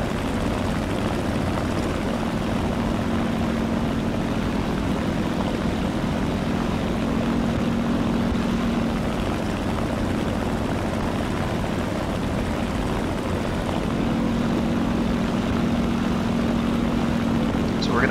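An old reconnaissance propeller plane drones continuously in flight in War Thunder, a steady engine rumble with a faint tonal hum that fades in and out.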